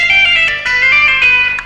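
Electric guitar plays a quick hammer-on and pull-off lick, a run of crisp legato notes with a bright sustained tone, loud and close with no talk.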